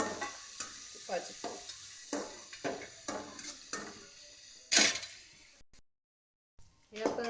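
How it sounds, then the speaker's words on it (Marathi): Dry fruits frying in ghee for a shavige recipe, with a soft sizzle under repeated scrapes and stirring clinks of a spoon against the pan, one sharper clatter, a brief silence, then stirring again. "हे आता व्यवस्थित थोडंसं फ्राय करून घ्यायचं की त्याला चांगली असं फ्लेवर यायला पाहिजे तुपाची।"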